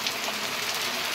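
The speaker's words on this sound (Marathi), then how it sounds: "बघा पाऊस." Rain falling in a village, a steady even hiss of close, moderately loud drops with no voices over it.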